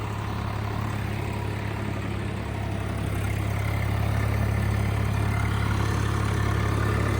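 A tractor (3630 model) engine idles steadily up close, its low exhaust rumble through the silencer continuous and unchanging throughout, with no voices.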